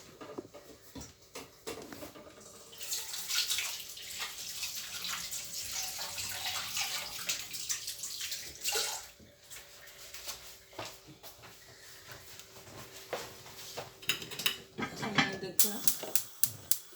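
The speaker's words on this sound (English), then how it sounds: "Just gonna wash my hands." Hands are washed under a running kitchen tap, a steady splashing rush of water that shifts as the hands move through the stream, with a few dish clinks and a voice speaking now and then.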